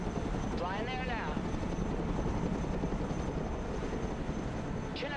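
A Chinook heavy transport helicopter flying in the video game Broken Arrow, a steady loud rotor and engine drone throughout, with brief whining tones over it.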